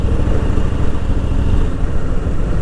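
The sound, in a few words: Harley-Davidson Fat Boy motorcycle engine at low RPM, fifth gear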